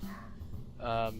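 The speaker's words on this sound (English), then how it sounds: "That was a dog." A dog barks once, a short yelp in the background, partly under a man's speech.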